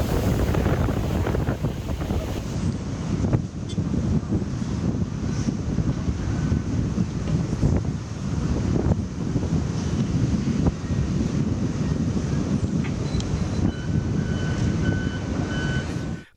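Storm-driven waves surge and crash along a Rio de Janeiro beach, a loud continuous roar of surf heavy with wind buffeting the microphone throughout.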